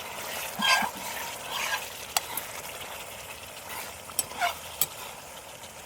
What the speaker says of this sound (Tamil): இந்த தண்ணியெல்லாம் சுடுற வரைக்கும் இப்படியே கிளறிட்டு இருக்கலாம் மக்களே